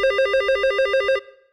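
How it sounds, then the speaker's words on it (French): An old-style telephone bell rings as a sound effect in a French radio crime story, giving one rapid trilling burst of just over a second that cuts off and fades out, with no talk over it. "Le téléphone sonne."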